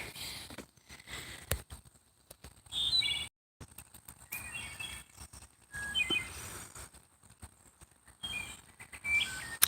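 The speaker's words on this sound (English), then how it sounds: "I do like the sound the birds make before they retire for the evening" Faint birds chirp and tweet intermittently in a quiet outdoor setting in the evening, with scattered high calls and soft rustling between them.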